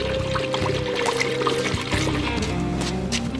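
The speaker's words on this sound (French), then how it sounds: "effectuez les remplissages d'huile" Oil poured into a Peugeot DV4TD diesel engine while it is refilled after reassembly, a steady close liquid trickle lasting a few seconds with no voices.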